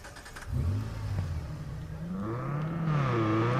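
A car engine in the Watch Dogs 2 video game revs up, a mid-pitched growl that rises in several climbing surges to a higher whine, close and fairly quiet, with no talk over it.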